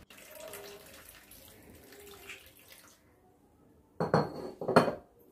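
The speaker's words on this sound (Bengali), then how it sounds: "মটর নিলাম, মটরগুলো ভালো করে ধুয়ে নিতে হবে।" Dried peas being washed in water for West Bengal-style ghugni: a low running-water wash, then two louder splashing, sloshing bursts near the end, close by.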